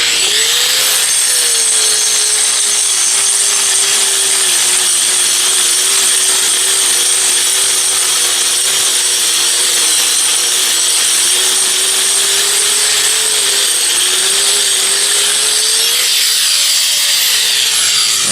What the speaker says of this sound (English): I'm just going to use my grinding wheel, 4-inch grinding wheel.